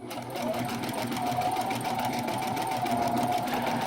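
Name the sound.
sewing machine stitching a satin zigzag edge on tablecloth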